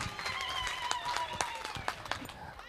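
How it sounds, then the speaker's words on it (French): A modest audience applauds at a workshop, a dense patter of claps at moderate distance with voices and movement mixed in. "on applaudit, on applaudit."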